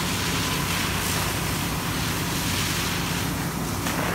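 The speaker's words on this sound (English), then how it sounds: "Right now, Ben's pulling 150 gallons per minute of water out of that nozzle tip." A hefty fire hose nozzle flows about 150 gallons of water per minute, making a loud, steady, close rushing hiss that holds without a break.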